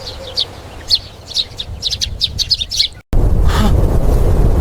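Sparrows chirp in a quick run of bright, high calls over a field, several birds twittering close by for about three seconds before the sound cuts to a dense, steady outdoor wash.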